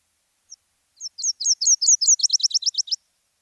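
A Nashville warbler sings alone: a few spaced, high, clear chirps that speed into a rapid run of short, evenly pulsed trill notes, all lasting about two seconds.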